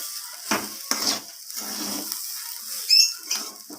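Spoon stirring bhog khichuri in a pot after a little sugar is added, producing several separate scraping and rustling strokes with short pauses between them, close and fairly clear.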